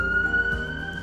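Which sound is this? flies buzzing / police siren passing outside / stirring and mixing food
police siren passing outside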